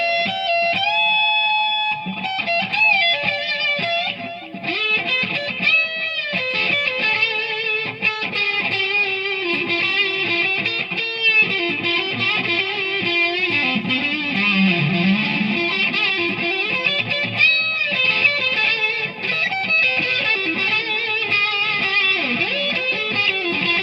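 Electric guitar played through a Behringer HM300 fuzz pedal with tape echo: sustained, saturated notes and bends with repeating echoes, loud and continuous throughout with no talking.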